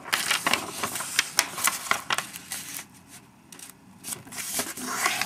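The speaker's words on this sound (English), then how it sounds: "for the ninja star, you're gonna wanna fold this in half." Close, dry rustling and crinkling of a paper square being folded in half and creased for an origami ninja star, with irregular crisp rubs and taps and a brief quieter pause midway.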